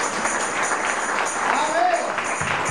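A church congregation claps together in a dense, steady wash of applause, with voices mixed into the noise throughout.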